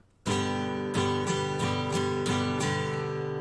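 Strummed guitar chords played in a steady rhythmic pattern, several bright strokes ringing out one after another, close and clear.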